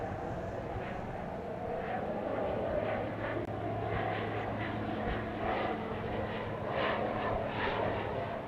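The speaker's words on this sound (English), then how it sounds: "We've got a Pilatus PC 12/45 coming in from Beaumont, Texas." A Pilatus PC-12/45 turboprop arriving at Dallas Love Field drones with a steady, distant engine rumble and broad hiss, holding fairly constant with no voices.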